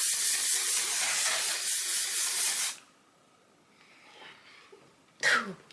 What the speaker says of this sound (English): This is the One Size Until Dawn mattifying setting spray.